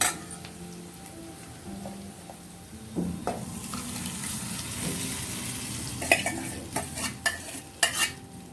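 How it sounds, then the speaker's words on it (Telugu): Quiet frying sizzle of dal, green chilies and onion with a spoon stirring and scraping in a pan, growing busier toward the end with clinks and a watery splash as water is added. "ఇలా వేగితే సరిపోతుంది, ఎక్కువ వేగక్కర్లేదు"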